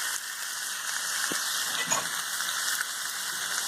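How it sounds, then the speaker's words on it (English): Partly frozen pork cooking in a little oil in a hot pan for jambalaya gives off a steady, close frying hiss with a few faint clicks and no voices. "a little bit of oil. Cook your pork."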